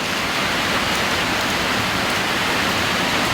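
Steady heavy rain falling, a dense, continuous hiss close by with no pauses or talk.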